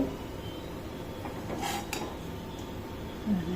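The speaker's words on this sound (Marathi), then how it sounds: "आता हे मी ना एका डिशमध्ये काढून घेते" Ghee-fried cashews, almonds and pistachios spooned out of a pan into a dish, giving a few soft metallic scrapes and light clinks over a quiet kitchen background, close and without voices.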